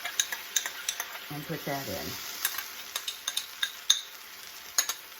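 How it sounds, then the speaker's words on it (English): Cornstarch and water slurry being stirred into a hot pan while cooking vegan Mongolian beef, with steady sizzling and repeated utensil scrapes and clicks against the pan; a voice speaks briefly in the middle. "And we're going to stir that up."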